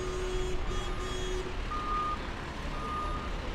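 Steady, evenly spaced reversing beeps ring out from a fire truck backing into a historic firehouse in Manhattan's East Village, carrying over a continuous engine rumble and street noise with no talking.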